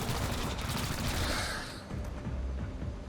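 Gunfire in the tactical game XCOM: Chimera Squad, a dense, loud burst of rapid shots filling the space, easing into a slightly quieter rattle and rumble.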